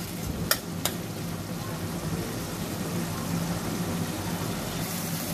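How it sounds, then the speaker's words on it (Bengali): Spice paste frying in a pan while being stirred, a low steady sizzle with a couple of sharp clicks of a utensil near the start. "মশলাটা ভালো করে কষিয়ে নেব এখন, যেন পেস্ট নরম হয়।"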